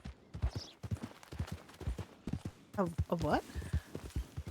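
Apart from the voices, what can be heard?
horse hooves clip-clopping in a role-play video game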